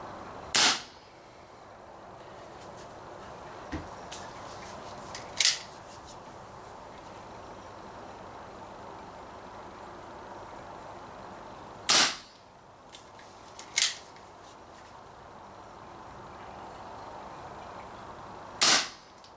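Umarex Marlin air revolver firing, five sharp, snappy shots spaced a few seconds apart over a quiet background hiss, fairly close and alone.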